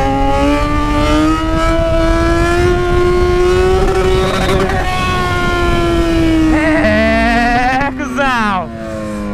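Yamaha XJ6 motorcycle revving hard during wheelie practice, a loud sustained engine note rising and falling with a sharper rev near the end, with someone talking over it.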